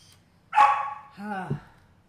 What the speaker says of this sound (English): She's barking at the cat.